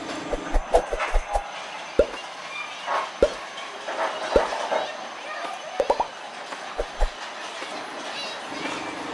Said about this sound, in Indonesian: lokomotif melewati bangunan warga yang mepet sekali teman-teman